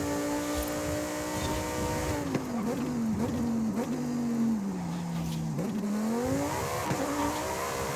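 A Lamborghini Huracan STO in Forza Horizon 5 drives hard, its steady engine note rising and falling as the tires slip and squeal briefly through the corners.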